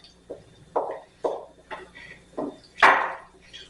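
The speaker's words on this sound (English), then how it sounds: "now I am just going to drop my beans" Beans dropped into a simmering pot for a lamb shepherd's pie, a series of about six separate soft thuds and clatters at uneven intervals, close and fairly loud, with no talking.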